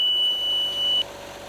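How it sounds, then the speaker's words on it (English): A LIQUI MOLY Gear Tronic transmission-flush machine sounds its process-complete signal, a steady high-pitched continuous beep lasting about a second before cutting off, leaving a low hum. "Press the Stop button as soon as the continuous beep signal is heard"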